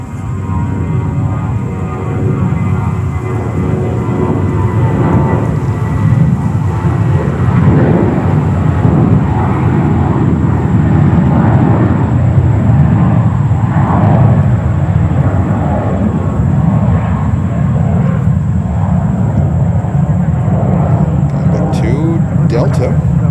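A JetBlue airliner in special livery takes off from runway 22 right at JFK Airport in New York, its engines making a loud, sustained roar that holds steady throughout while someone talks over it.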